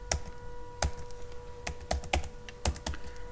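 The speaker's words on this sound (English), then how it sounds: "now you need to type here the command sudo apt install ttf hyphen ms core fonts" Keystrokes on a computer keyboard as a terminal command is typed in Ubuntu 20.04: a sparse run of about ten sharp, close clicks at an uneven pace, alone with no talk.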